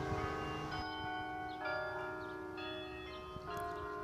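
Church bells ring across a town in Indiana, Pennsylvania, their clear sustained tones overlapping and renewing with fresh strikes every second or so, steady and moderately distant with no voices.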